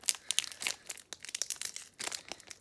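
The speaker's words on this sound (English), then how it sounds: "All right, let's open up pack number two." Crinkly foil wrapping of a Pokémon Crown Zenith card pack is torn open by hand up close, a few quick rustling rips in bursts with short pauses between.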